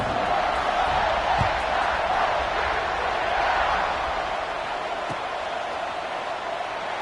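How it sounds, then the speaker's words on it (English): Crowd at a college football stadium after a touchdown, a steady distant roar and murmur of thousands of fans filling the background, with a couple of faint thumps. "this crowd is buzzing after that last score"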